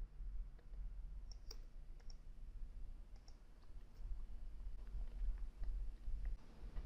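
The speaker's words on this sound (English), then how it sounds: "And I'm going to click run." Computer mouse clicks while running a request during a Power BI embedding setup, several faint, sharp clicks scattered over a quiet room hum, with no voices.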